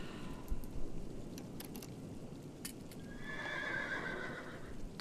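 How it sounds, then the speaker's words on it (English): A ghost horse in The Witcher 3: Wild Hunt whinnies near the end after a few soft hoof clops, set over a low ambient game hum, moderately loud and close with no talk. "Thanks, ghost horse."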